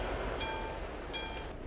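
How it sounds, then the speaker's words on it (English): A train passes in the Euro Truck Simulator 2 driving game, a steady rumbling rail roll with periodic clattering bursts, faint and continuous with no talking. "There is train coming."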